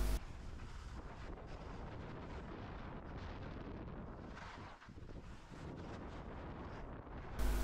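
Steady, loud wind roars and buffets the microphone on a ski slope at Thredbo, a continuous broadband rush with slight dips and no voices.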